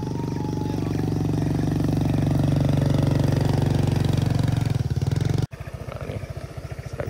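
A motorcycle engine on a road runs loud and close, rising steadily in pitch as it accelerates, then drops abruptly to a lower, lumpier throb.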